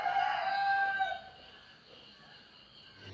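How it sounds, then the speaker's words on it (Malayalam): A rooster crows once near a house in the early morning, a loud drawn-out call lasting about a second, followed by quiet ambient background. "ഞങ്ങളുടെ കോഴികളൊക്കെ കൂവുന്നേ ഉള്ളൂ കേട്ടോ."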